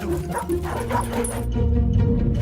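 Dogs barking and yipping in a Samsung commercial segment, several short excited barks and whimpers over a music bed, fairly loud and continuous.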